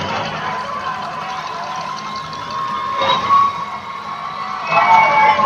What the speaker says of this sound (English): And Team Pennsylvania fans get loud and proud.